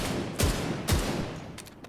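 The Bighorn exotic assault rifle in a video game, two heavy, punchy shots spaced about half a second apart over a steady background hum, followed by faint clicks.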